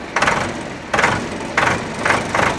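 A 2000-model Swaraj tractor engine idles loudly and steadily, its rough rumble swelling in regular bursts roughly every half second to second.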